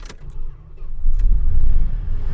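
A Dodge Monaco engine with a newly repaired carburetor cranks over briefly, then catches and settles into a loud, steady, low idle rumble that holds to the end.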